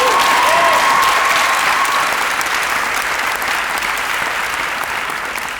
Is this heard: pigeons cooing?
no